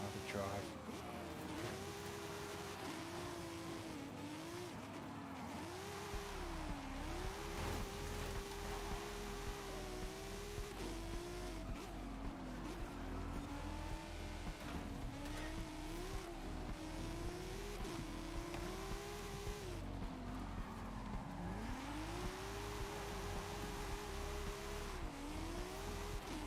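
Drift car engine revving continuously in Forza Horizon 5, with wavering pitch as the throttle rises and falls, plus faint tire squeal. A voice talks quietly underneath throughout.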